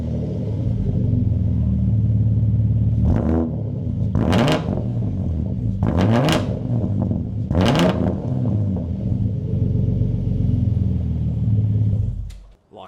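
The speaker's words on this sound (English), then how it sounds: "this is my new exhaust" A Ford Falcon with a new exhaust idles with a deep burble, then revs hard four times in quick sharp bursts that each flare and fall back, before settling and cutting off abruptly.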